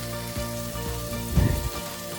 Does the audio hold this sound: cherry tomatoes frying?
yes